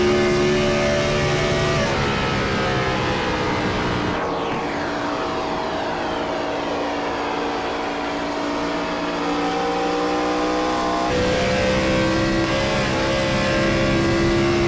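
A Gen4 cup stock car in a sim racing game at Charlotte roars past loudly, its engine note sweeping down as the throttle lifts, then a steady drone of other cars continues.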